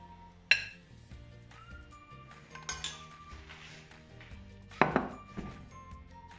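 Rice and green bean stew with lamb and tomato are served from pots with a metal spoon, giving a few sharp clanks and scrapes against cookware and plates amid quiet kitchen background.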